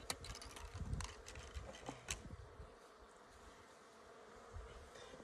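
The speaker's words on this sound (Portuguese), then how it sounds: "Que abelha grande? Graudona," Large bees from a swarm nesting in a termite mound buzz in a dense, continuous drone, with individual insects passing close by, recorded outdoors at low level.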